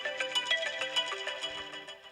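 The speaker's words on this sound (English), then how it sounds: "It'll play a quick run of that specific tone." An iPhone 13 plays a short preview of a ringtone: a quick, bright run of chiming melodic notes at a steady tempo, clear and alone.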